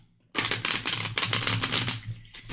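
A deck of tarot cards is shuffled by hand after a brief silence, giving a close, continuous papery riffle and flutter with quick repeated bursts.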